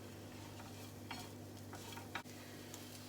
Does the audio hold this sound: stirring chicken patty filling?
yes